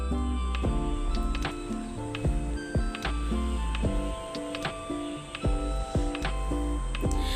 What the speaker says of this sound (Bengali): ডিমটা আমি ভালোভাবে ফাটিয়ে নিব একটা হ্যান্ড উইচের সাহায্যে